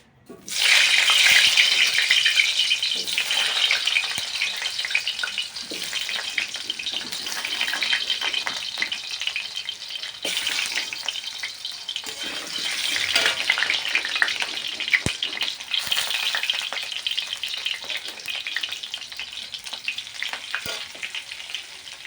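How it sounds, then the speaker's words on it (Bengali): Potatoes fry in mustard oil in a wok, with a steady, dense sizzle that holds loud for the whole stretch, broken by occasional stirring scrapes. "আলুর মধ্যে একটুখানি হলুদ আর একটুখানি লবণ দিয়ে একটু ভেজে নেব"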